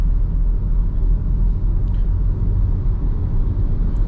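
Kia Syros 1.0L turbo petrol automatic driving along, a steady low engine and road rumble with continuous cabin drone and no distinct gear changes, heard alone.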